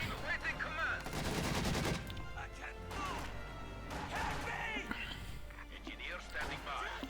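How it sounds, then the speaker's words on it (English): Katyusha rocket barrage in the World War II strategy game Company of Heroes 2: a rapid string of loud blasts and crackling impacts, with a voice commentating over the battle noise. "Katusha on the way here for Barton."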